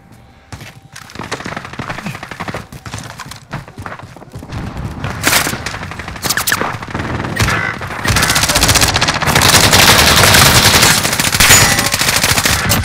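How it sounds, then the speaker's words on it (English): An automated sentry gun fires in Call of Duty Modern Warfare Warzone on Rebirth Island, loud sustained machine-gun rattling that starts sparse and builds into continuous rapid fire over more than ten seconds. "Enemy sentry gun active."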